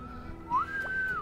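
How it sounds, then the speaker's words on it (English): A single clear whistled note rises quickly, holds steady at a moderate level, then dips away at the end, with no talk over it. "What's up with that whistle?"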